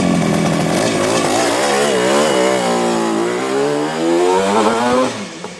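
A 1974 Yamaha RD350 two-stroke motorcycle with expansion pipes fires up and revs, its loud buzzing engine note rising and falling through several throttle blips before settling.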